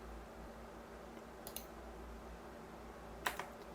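Computer mouse clicks and key presses while working in SolidWorks 2021 CAD software: a couple of faint clicks around the middle and a sharper pair near the end, over a steady low hum.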